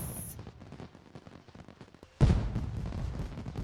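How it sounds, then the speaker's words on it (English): Fireworks at the Humor and Hijinks Festival in The Sims 4 boom suddenly after a quiet stretch, a loud burst followed by crackling rumble over soft background music. "conveniently, the Humor and Hijinks Festival is going on, so we get a little view with some fireworks"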